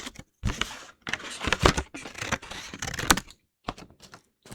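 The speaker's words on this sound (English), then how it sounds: "Then take the strips and cut them down." Scissors cut paper strips into small pieces, a series of close, crisp snips and rustles in irregular bursts with short pauses between them.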